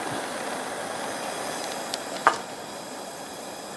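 A 1962 Coleman 208 lantern hisses steadily as it is shut down, giving a close, even rushing sound with a couple of small clicks near the middle.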